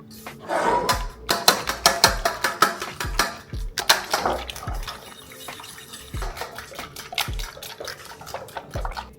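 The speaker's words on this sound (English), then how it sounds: "And now I'm gonna whisk it." A fork whisks a cottage cheese mixture in a bowl, rapid rhythmic clinks and scrapes against the dish in close bursts, then slower scattered taps.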